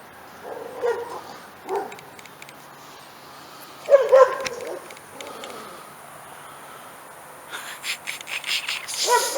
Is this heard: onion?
no